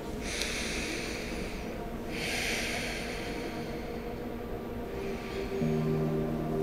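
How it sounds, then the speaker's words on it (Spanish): Two deep breaths drawn in through the nose during a guided relaxation exercise, each a soft, airy inhale of about a second, close and moderately quiet over a faint steady background hum. "a respirar profundo por la nariz dos veces"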